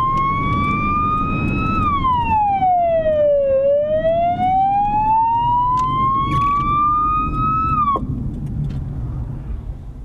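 A Slovak police emergency vehicle's siren wails loudly, sweeping down and back up in long glides over a steady road and engine rumble for about ten seconds, with no voices.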